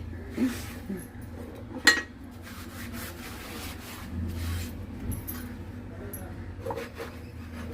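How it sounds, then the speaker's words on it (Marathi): A new cast iron appe pan is scrubbed clean, giving scattered metallic scrapes and clinks with a brief louder clatter, close and moderately quiet. "आता हे आपण व्यवस्थित स्वच्छ घासून घेतलंय"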